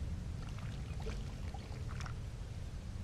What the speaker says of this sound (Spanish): Pero yo coloco agua.